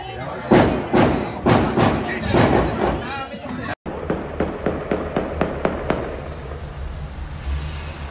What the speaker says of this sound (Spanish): Armaron los balazos, armaron los balazos.